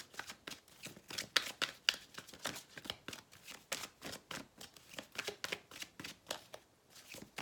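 A deck of Woman's Oracle cards is shuffled by hand, a close, crisp run of rapid riffling bursts repeating in a quick, fairly even rhythm.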